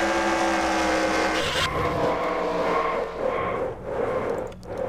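Race trucks in a racing video game after a wreck, engines roaring with a sharp drop in pitch, tire squeal and skidding as one truck gets loose coming off a corner, loud and close.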